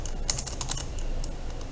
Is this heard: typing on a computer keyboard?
yes